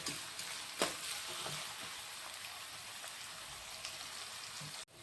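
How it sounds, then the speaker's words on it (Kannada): Curry leaves and onions fry in a pan for tamarind chitranna, a steady close sizzle with faint crackles and a few light stirring knocks, no voices. "ಕರಿಬೇವು ಉಳ್ಳಾಗಡ್ಡಿ ಚಲೋ ಸುಡ್ಬೇಕ್ರಿ"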